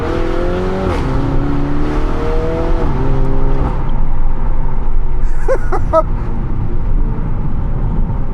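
A Mini JCW Clubman engine revs and climbs through the gears, rising notes dropping at each shift, loud and close from inside the cabin with a window open, with brief speech near the end.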